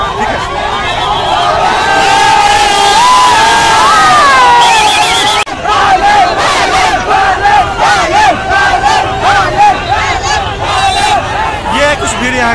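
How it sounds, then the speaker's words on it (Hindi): A large crowd at the Indra Jatra festival in Kathmandu roars and shouts loudly and close, with overlapping chanting voices and a brief break midway before the clamour resumes. "ये है कुछ भीड़ यहाँ का,"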